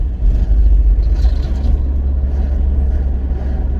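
A 2013 Mitsubishi Shogun 3.2 diesel with an automatic gearbox shifts gear on the move: a steady low engine drone and road rumble, loud and close from inside the cabin, with no clear jolt at the change.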